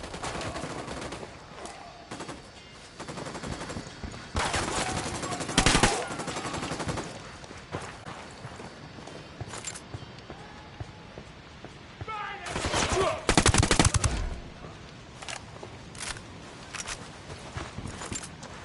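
Bursts of gunfire from the video game Ghost Recon Wildlands, with dense volleys around the middle and a heavy flurry near the end, scattered single shots between, fairly loud, with occasional voices.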